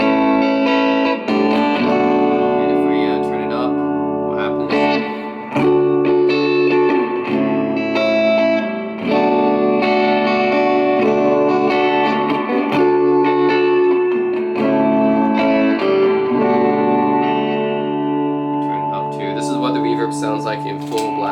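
Electric guitar played through a Milkman amp with spring reverb rings out in sustained chords and single notes, clean to slightly driven with a lingering wet tail, close and full for about twenty seconds.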